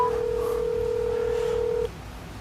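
A phone placing a call sounds a single steady electronic tone held close and clear for about two seconds before it cuts off, leaving quiet room noise behind.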